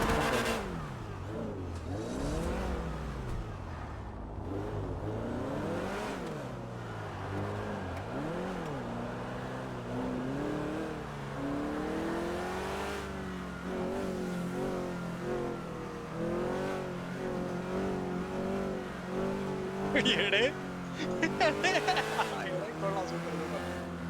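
In GTA Online, a car engine revs and shifts, its pitch climbing and dropping again and again while driving, with someone talking over it throughout.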